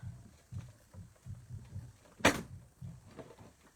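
A hand-cranked die-cutting and embossing machine working card stock gives a series of soft, low creaks and thumps, with one sharp, loud crack near the middle.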